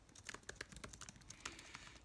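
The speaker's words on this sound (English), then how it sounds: "I hope I'm not shaking too much by typing this in" A web address is typed on a computer keyboard as a quiet, uneven run of keystroke clicks, some quick, some spaced apart, heard close and alone.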